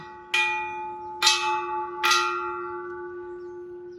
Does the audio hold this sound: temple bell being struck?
yes